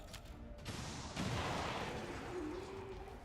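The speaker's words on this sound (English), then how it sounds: "All right, rocket launcher, go. Firing rocket." A rocket launcher fires in the XCOM 2 video game, giving a loud whooshing blast that swells into a sustained rumbling roar.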